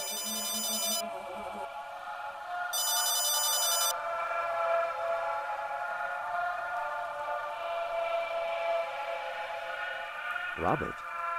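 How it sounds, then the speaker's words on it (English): A phone rings in the video game One Late Night: Deadline in two short electronic bursts, separated by a pause, over a low steady hum, followed by a brief thud. "It sounds like someone's phone is ringing."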